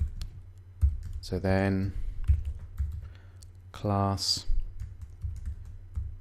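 Keys clatter on a computer keyboard during PHP coding, a scattering of soft, irregular clicks under a low hum, with someone speaking briefly over them.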